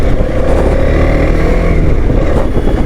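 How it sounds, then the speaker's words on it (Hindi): A TVS Apache RTX 300 motorcycle being ridden gives a loud, steady engine drone with a slight rise in pitch, heard close up for a few seconds without talk. "आज हम चला रहे हैं RTX 300 और फर्स्ट टाइम मैं इस बाइक को चला रहा हूँ।"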